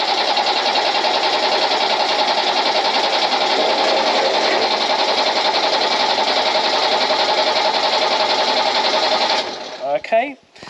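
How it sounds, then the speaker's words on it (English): An old military jeep engine cranks over on its first start, a steady loud whirring churn lasting about nine seconds that stops abruptly, with a brief voice after it. "Okay, it's turning over, that's number one."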